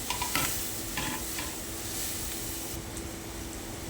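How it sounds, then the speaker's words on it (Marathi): Turmeric and red chili powder sautéed in a pan over fried onions and tomatoes, with steady close sizzling and light scraping stirs. "मग घातलं चिमूटभर हळद मग एक चमचा लाल तिखट व्यवस्थित परतून घेतलं"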